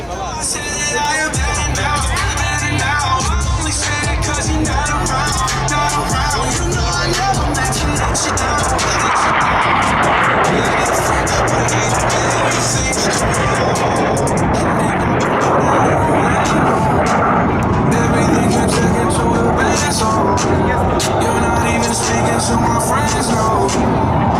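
US Navy Blue Angels F-18 jets perform opposing inverted rolls at an airshow, their roaring jet noise swelling and fading over a steady din of crowd and announcer talk.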